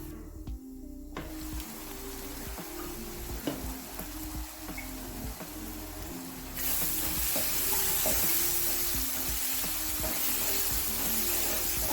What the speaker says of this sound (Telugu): మూత పెట్టి 1 నిమిషం పాటు ఫ్రై అవనిద్దాం